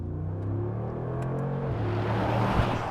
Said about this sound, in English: Flooring the throttle in this thing